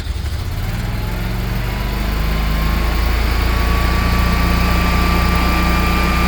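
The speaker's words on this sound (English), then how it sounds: "plan B is my Generac, and here she's starting up" A Generac 24 kW standby generator starts up and settles into a steady, loud running drone with a rising whine, close by and alone, no talk.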